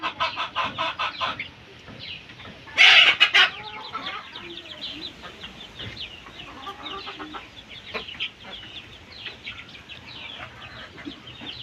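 Fayoumi and Tiger breed chickens and chicks cluck nearby, with a louder burst early on and then soft, steady clucking.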